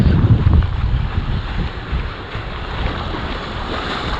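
Ocean waves break on a rocky Sydney shoreline, a loud crashing surge at the start that fades into a steady washing roar, with strong wind noise buffeting the microphone.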